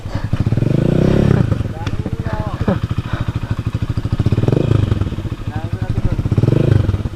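Honda Beat scooter engine running steadily near the microphone, a pulsing mid-range drone that swells and eases a few times, with people talking over it.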